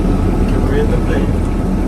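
Inside an airplane cabin in flight, a loud, steady engine and air roar fills everything with a constant low rumble, and voices are faintly mixed in.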